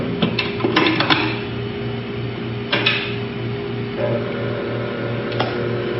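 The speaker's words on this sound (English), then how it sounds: "Otherwise, you could use our electric mixer." An electric mixer creams butter and sugar with a steady, close motor whir and intermittent clattering ticks of the beaters against the bowl, and no one speaks.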